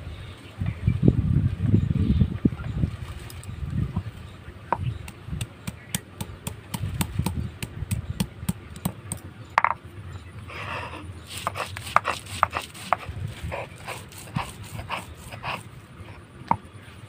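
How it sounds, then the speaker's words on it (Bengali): Ginger ground by hand on a traditional Bengali grinding stone, a rough scraping and thudding rhythm of stone on stone with repeated sharp taps, close and moderately loud. "আদাটা প্রথমে বেটে নেব।"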